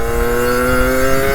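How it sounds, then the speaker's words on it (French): A 50cc motorcycle picks up speed again after a gear shift, its engine holding a loud, steady buzzing drone close to the microphone with no pause. "vous lâchez l'embrayage et vous réaccélérez"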